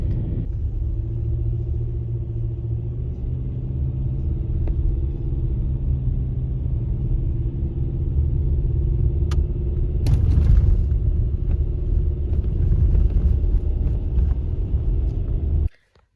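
Car driving on a snowy road en route to Alyeska: a steady low engine and road rumble from inside the vehicle, constant and fairly loud, with a brief thump midway before cutting off at the end.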